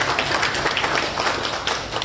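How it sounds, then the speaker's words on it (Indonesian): Audience at a regional government outreach event in Kendal, Indonesia, applauds in steady, dense clapping that holds evenly throughout without a voice over it. "Tepuk tangan dulu untuk kita"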